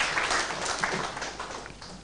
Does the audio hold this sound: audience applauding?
yes